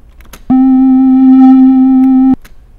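A synthesizer sound-design patch plays one steady, loud tone with clear harmonics, holding for about two seconds before cutting off sharply, with faint background noise on either side.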